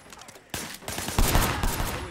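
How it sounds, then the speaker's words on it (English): Gunfire in the video game Sleeping Dogs, a sudden burst of rapid, dense shots that swells louder and stays heavy and close to the end. "Shooting at the guys over there."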